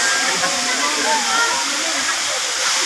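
Bato Spring Falls, a waterfall at a spring resort in San Pablo, Laguna, gives a dense, continuous roar of falling water, loud and close, with faint voices mixed in.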